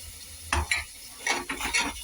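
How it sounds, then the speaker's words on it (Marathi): Tomato paste being stir-fried together with moong and chawli bhaji in a pan, with a soft sizzle under a few scraping spoon strokes that come in short bursts, close and fairly quiet. "हे दोघं संगत आपल्याला मिक्स करून परतून घ्यायचं आहे"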